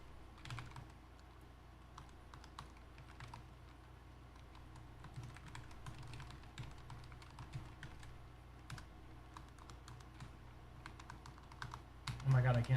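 Quiet, rapid keystrokes patter on a computer keyboard in irregular bursts against a low steady background hum, ending in a short louder thump.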